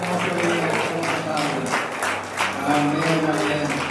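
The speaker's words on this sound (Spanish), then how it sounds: "Dale un aplauso fuerte al Señor Jesucristo en esta hermosa vida." A church congregation claps steadily and loudly in dense, continuous applause, with a voice and music faintly underneath.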